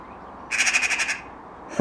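A jackdaw mimicking crow calls gives a quick burst of harsh, rasping caws, about six pulses in a row, close and loud, followed by a short squawk.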